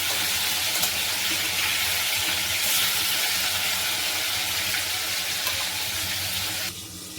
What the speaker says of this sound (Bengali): মাছের এক পিসটা ভালোভাবে ভাজা হয়ে গেছে, অন্য পিসটা উঠিয়ে দেব।